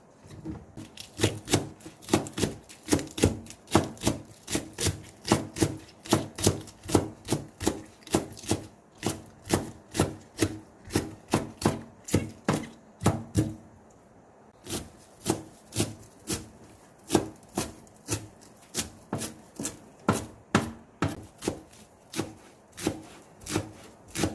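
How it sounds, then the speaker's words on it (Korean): Water dropwort, perilla leaves and Cheongyang chili peppers chopped on a board, a long run of quick, even knife strikes close by, with a short pause partway through and no voices. "화단에 심어진 미나리 조금하고 깻잎, 청양고추 썰겠습니다"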